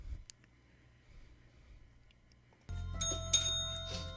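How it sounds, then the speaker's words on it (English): Quiet hum, then a bell rung by a dog starts ringing with sustained metallic tones and a sharper strike, fairly close and loud. "You can hear him ringing the bell."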